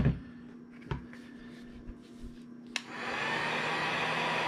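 A heat gun warming an earbud circuit board starts with a click, then holds a steady, close blowing hiss and whine, preceded by a few small handling knocks.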